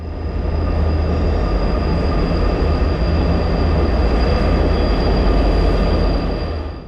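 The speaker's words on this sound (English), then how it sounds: "one of Renfe's loco-hauled Talgo sets rocked up" A Renfe Talgo passenger train hauled by a pair of Class 334 diesel-electric locomotives rolls in with a loud, steady rumble of wheels on rail and a high, thin whine sustained over it.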